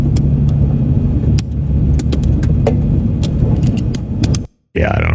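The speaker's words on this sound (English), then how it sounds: "that's locusts hitting cars in the Sahara Desert" Desert locusts pelting cars in the Sahara: a dense, continuous patter of sharp ticks and taps over a low rumbling bed, ending in a brief drop to silence before a short burst resumes.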